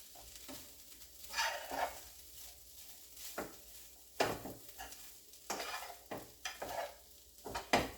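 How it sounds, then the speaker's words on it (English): Spices toasting in a pan for a Tex Mex dip, a quiet sizzle broken by intermittent stirring scrapes and utensil knocks, close and fairly soft. "Just let that go a little bit so that your spices are toasting up a little bit in here"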